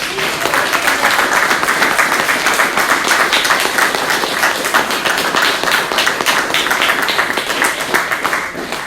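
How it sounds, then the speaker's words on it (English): Sustained applause from the audience at a Winters city council candidates forum, many hands clapping steadily and densely for the full stretch, loud and close with a few scattered individual claps standing out. "I asked everybody to hold their applause. Now is the time you can let it out."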